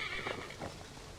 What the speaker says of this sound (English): if I call a horse...